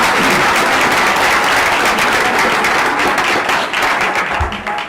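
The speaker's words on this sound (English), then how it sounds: "So I want to give him a round of applause." Audience at a regular school board meeting applauds the photographer who shot the students' billboard photos, a steady dense clapping sustained through the whole stretch and tapering slightly at the end.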